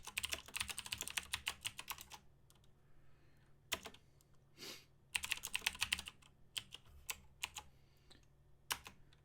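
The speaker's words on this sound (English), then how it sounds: "And then just type in my last few lines." Quick bursts of typing on a computer keyboard while writing HTML code, close and clear, with rapid clusters of key clicks separated by short pauses and a few isolated taps.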